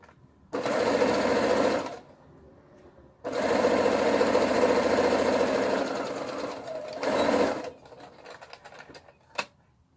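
A home sewing machine stitches down the sleeve of a sweetheart one-sleeve ruffle dress in three steady motor bursts, the middle one longest. There is a pause between bursts, and a faint click comes at the end.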